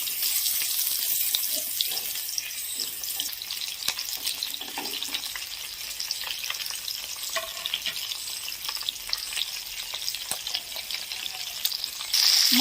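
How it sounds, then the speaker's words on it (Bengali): Prawns frying in hot oil for a Bengali prawn malai curry, a dense steady sizzle that stays loud and continuous throughout. "তেল গরম আছে, এবার একটা একটা করে আমি মাছ ছেড়ে দেব।"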